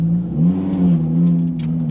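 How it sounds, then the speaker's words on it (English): Rear-wheel-drive Lamborghini Gallardo or Audi R8 V10 sports car engine revving steadily during a slow-speed donut on a snowy surface, a loud sustained drone rising and falling slightly throughout, with no talk. "I thought this would be icier to do a donut"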